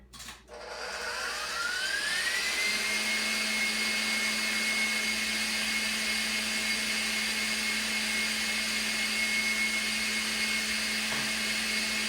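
A kitchen mixer whirs steadily at high speed, its motor pitch rising as it spins up and then holding a loud, even whine.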